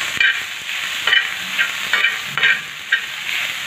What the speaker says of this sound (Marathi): टोमॅटोमध्ये टाकून मी अशी थोडीशी 1 मिनटं परतून घेणार आहे